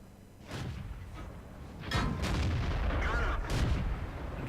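Tank guns fire in World of Tanks, with several sharp booms arriving in quick succession at moderate loudness and no talk over them.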